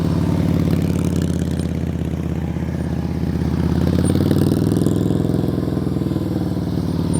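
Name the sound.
motorcycle engine at low throttle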